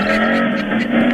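A motorcycle tricycle passes by outside, heard as a steady, moderately loud engine drone with a buzzing tone that holds throughout the short moment.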